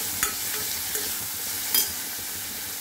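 Tomato fries in a pan with onion and curry leaves for a radish kuzhambu, giving a steady close sizzle with two or three brief clinks of a spoon against the pan.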